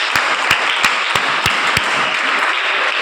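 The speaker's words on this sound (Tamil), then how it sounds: "2 பேர் கைத்தட்டு." A church congregation claps during a sermon: a run of evenly spaced, sharp claps rings out over a steady wash of crowd noise.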